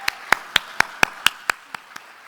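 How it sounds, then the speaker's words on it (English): A short burst of about nine crisp hand claps in a steady rhythm, thinning and fading toward the end, from a small audience at a USC Marshall summit event. "Round of applause, please."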